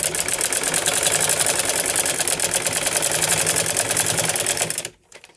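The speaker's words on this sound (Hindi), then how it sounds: "प्लेट्स लगाने के बाद में हम अपनी सलवार को इस तरह से सीधा रखेंगे और इसके ऊपर से हम फिनिशिंग की सिलाई लगाएंगे" A sewing machine runs continuously at a fast, even pace, sewing the finishing seam of a salwar, close and loud, then stops abruptly near the end.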